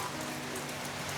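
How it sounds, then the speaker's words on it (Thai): Light rain falls as a steady, even hiss of drops on surfaces, close and continuous with no distinct individual patters. "ฝนตกเล็กน้อยอย่างแข็งฝนอยู่"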